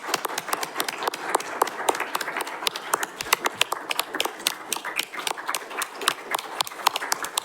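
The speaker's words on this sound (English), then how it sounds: "Please give him a round of applause" An audience claps to honor Rick Witzel on a day declared in his name in Marshfield, a brisk patter of many hands that runs steadily for several seconds from a moderately small crowd.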